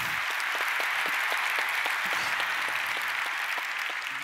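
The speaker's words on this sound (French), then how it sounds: "On peut l'applaudir." Steady audience applause at a Microsoft business conference plenary session after a demonstration, a sustained dense wash of many hands clapping at even loudness throughout.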